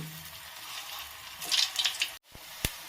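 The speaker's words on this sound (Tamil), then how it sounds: "இப்போ ரெடி பண்ண பால்ஸை நம்ம போட்டு பொன்னிறமாக வறுத்து எடுத்துடலாம்" Bread balls deep-fry in hot oil with a steady, moderate sizzle and a few stirring scrapes, broken by a brief dropout and a sharp tap near the end.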